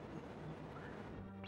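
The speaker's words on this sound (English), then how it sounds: "We're still smashing pots in the Tower of Ganon." Pots being smashed in The Legend of Zelda: A Link to the Past while exploring Ganon's Tower, with a sharp crash near the end over continuous game music.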